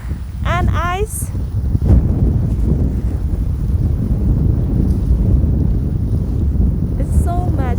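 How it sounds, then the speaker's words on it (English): Strong winter wind buffets the microphone on a downtown Calgary street in extreme cold, a steady loud roar throughout, with faint water and ice sounds and brief bird-like chirps near the start and end. "it's very windy today."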